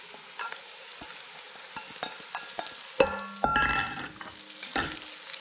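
About a pound of chopped fresh spinach goes into a pan of cooked onions for Sierra Leonean plasas, with light sizzling, a soft stirring scrape and a few sharp utensil clinks against the pan, no talk.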